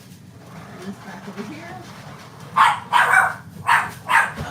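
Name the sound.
Chihuahua dog barking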